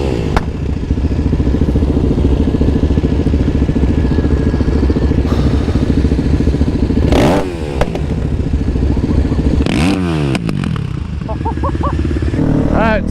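A supermoto motorcycle engine roars close and steady while riding, its pitch surging with throttle blips and revs, with a few clattering thumps and scrapes along the way.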